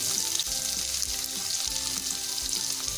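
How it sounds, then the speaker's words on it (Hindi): Onions frying over a medium flame in a pan with ginger-garlic, a steady loud sizzle broken by a few soft stirring scrapes, no voices. "प्याज को हमें मतलब फ्राई करना है कि प्याज अच्छे से सॉफ्ट हो जाए।"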